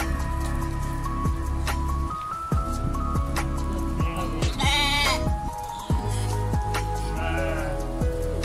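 Fat-tailed dumba sheep bleat on a farm, several loud, close calls one after another over a steady background hum, with light dripping sounds in between.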